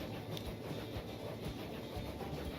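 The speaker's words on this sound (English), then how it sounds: "This is our current passenger train." A passenger train running in Transport Fever 2: steady rumbling rolling noise with a low hum and faint rhythmic clatter, continuous and even.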